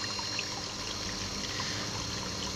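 Water from a pool's sun-heated roof heating system runs off the roof in a steady, even trickle, a continuous close wash of flowing liquid with no voices.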